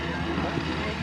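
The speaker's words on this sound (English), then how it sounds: "And we've got RJ Gritter taxiing up to 450." A propeller-driven wing-walking stunt airplane taxis on the ground at a flying circus airshow, giving a steady, continuous engine drone that stays fairly loud and close throughout.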